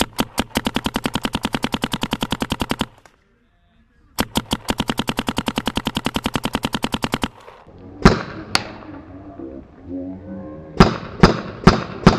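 A paintball marker fitted with a Lone Paintball Overcore barrel fires in ramping mode: two long, rapid bursts of sharp pops with a short gap, followed by several single loud shots.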